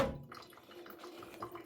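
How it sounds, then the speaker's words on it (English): Water gushes from a heavy leak in a steady faucet-like stream, with some splashing and dripping, fairly faint and with no talking. "It's not even like a dribble at this point. It's a full-on faucet."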